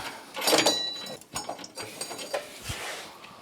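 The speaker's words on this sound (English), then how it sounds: "Now we can reach in, finish taking out these 2 bolts" A hand ratchet working on the parking brake caliper bolts of a Yamaha YXZ1000R, giving a few short bursts of close, dry clicking with small metallic knocks and pauses between them.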